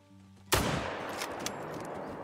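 A single loud rifle shot fired by a hunter at a deer in Call of the Wild, a sharp close crack followed by a long fading echo across open Mississippi fields.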